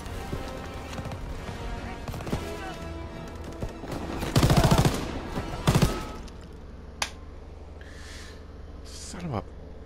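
Gunfire in Call of Duty WWII, a dense spell of rapid shots and bursts under game music and effects, with a loud flurry near the middle and someone talking over it.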